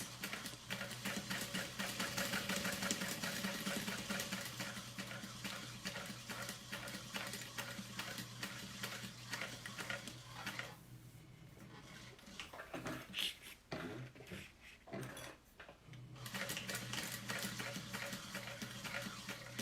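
Sewing machine top stitching a fabric wallet slowly along its edges near snaps, a steady close mechanical whirring with rapid needle ticks that runs on, dips and stutters midway, then resumes steadily.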